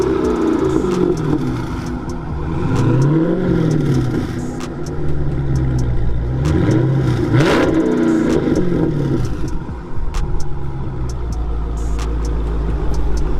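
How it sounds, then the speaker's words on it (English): A modified Dodge Challenger's engine revs repeatedly, rising and falling in loud, close bursts over a rumbling idle, with a few clicks and clatters between revs. "I'm gonna go ahead and have him rev it up for us"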